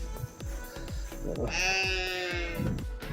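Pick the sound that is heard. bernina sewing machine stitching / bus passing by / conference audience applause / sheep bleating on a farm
sheep bleating on a farm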